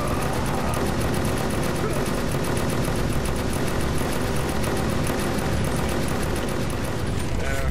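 Rapid gunfire from the shooter video game Inversion, a dense, loud, continuous rattle of automatic weapons with engine-like rumble filling the whole stretch.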